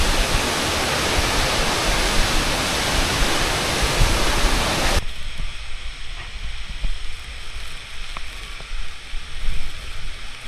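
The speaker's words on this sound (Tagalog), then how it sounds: "nakarating na tayo sa ano, Bomokod Falls." Bomod-Ok Falls in Sagada roars as a steady, dense rush of falling water, very loud at first and then softer and more distant partway through, with no talking.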